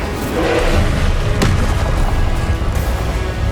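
Spell effects in the video game Hogwarts Legacy, loud booming magical blasts and whooshes with thuddy impacts and a sharp crack midway, forming a dense, continuous roar of game combat.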